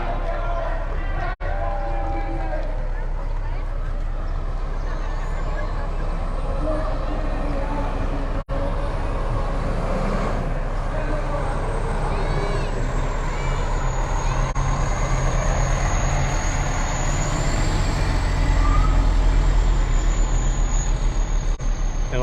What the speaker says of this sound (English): a MacArthur Fire Department fire truck making its way up the street